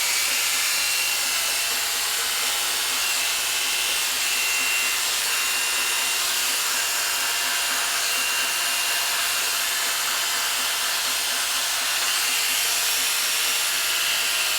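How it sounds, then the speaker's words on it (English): Electric clippers trim the hair on an Airedale terrier's ear flap during a rough clip of the head. There is a continuous close buzzing hiss at an even level throughout, with no voices. "Make sure you have your clipper flat against the ear flap so that nothing gets caught this way."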